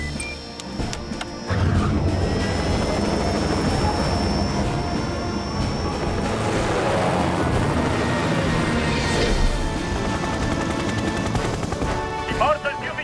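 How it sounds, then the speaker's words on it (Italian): Loud, steady rescue helicopter rotor and engine roar that rises in intensity as it takes off in a children's cartoon, with voices shouting faintly over the noise. "chi farà decollare l'elicottero di salvataggio?"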